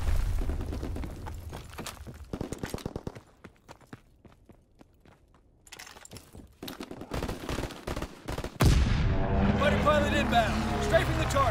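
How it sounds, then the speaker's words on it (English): A fighter plane's strafing gunfire in the World War II shooter Call of Duty WW2, heard as rapid staccato bursts that trail off into quieter scattered shots and footsteps, ending in a louder roar of explosions and aircraft noise. "Fighter pilot ready for strafing run."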